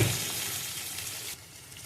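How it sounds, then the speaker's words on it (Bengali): Chopped onions frying in oil with cumin, a dense hissing sizzle that runs steadily, close and moderately loud, dropping slightly near the end, with no voices. "এবার পেঁয়াজটা ভালো করে ভাজবো, বেশ মোটামুটি লাল করেই ভাজতে হবে যেন কাঁচা না থাকে।"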